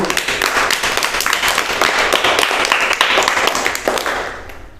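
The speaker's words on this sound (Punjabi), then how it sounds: "ਬਹੁਤ ਵਧੀਆ ਤਾੜੀਆਂ ਮਾਰੋ ਸਾਰੇ ਬੱਚੇ" Children clap together in a classroom, a dense burst of applause that runs steadily for several seconds and then fades out.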